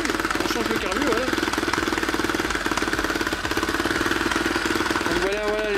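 A CRZ 250 motorcycle engine runs steadily at idle in a garage after a carburetor adjustment, its rapid knocking pulse loud and close for the whole stretch, with a brief rev near the end.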